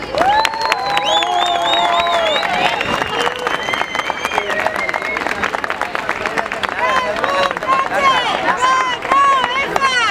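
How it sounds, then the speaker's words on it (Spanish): A crowd at a street demonstration claps and cheers for about ten seconds, loud and close, with shrill whistles and shouting voices mixed throughout. "Un aplaudiment per ells."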